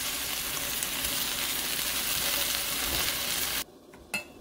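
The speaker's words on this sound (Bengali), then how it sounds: "আর ওদিকে চিকেনটা ফ্রাই হচ্ছে," Chicken frying in a pan, a loud continuous close sizzle that cuts off abruptly near the end, followed by a single short knock.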